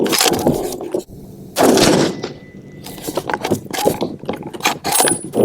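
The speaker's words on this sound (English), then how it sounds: "Let's go ahead and take some shots at the left target." Close-range shots from a Remington 770 rifle with a hot barrel ring out at a target, mixed with loud mechanical clatter of the action being worked.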